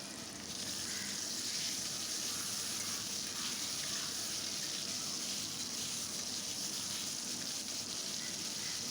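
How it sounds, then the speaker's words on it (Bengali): Potatoes fry in a pan with salt and turmeric, giving a soft, steady sizzle that holds evenly throughout at a fairly low level, with no talking. "আলুটা আমি হালকা ভেজে নিচ্ছি। এখন নুন, সামান্য পরিমাণে হলুদ দিয়ে ভেজে নিচ্ছি আলুটাকে।"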